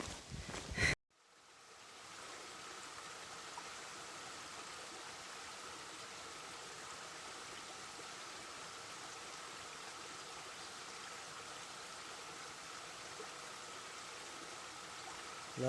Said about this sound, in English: Love the sound of the running water.